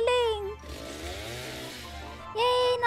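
A chainsaw in the Roblox survival game 99 Nights in the Forest buzzes steadily for a couple of seconds between excited children's voices, a rough revving drone under game noise.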